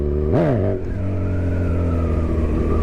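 A nearby motorcycle in second gear gives one sharp rev that rises and falls, then holds a steady, slightly climbing engine drone at low speed. No one talks.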